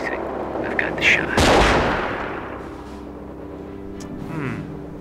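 Gunfire in the Company of Heroes video game, a heavy blast with a rumbling tail followed by fading battlefield noise, loud and close, with a voice speaking briefly in the mix.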